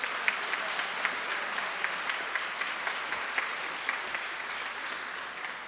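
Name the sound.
applause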